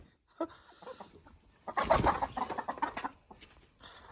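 Chickens cluck and squawk nearby in a short burst, with a few softer clucks before and after in a quiet yard.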